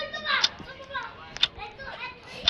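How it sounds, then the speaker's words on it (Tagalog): Children play and shout in a Roblox squid game round, high excited voices chattering and squealing in a lively, moderately loud burst. "Ingay ng mga bata."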